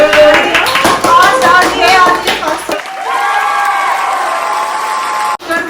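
A family claps together at home during a toilet paper roll and ball-blowing challenge game, a dense burst of applause for a few seconds that gives way to voices talking and cheering.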